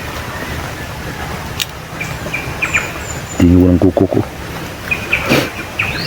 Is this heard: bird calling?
yes